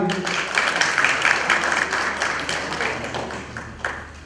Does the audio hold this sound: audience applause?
yes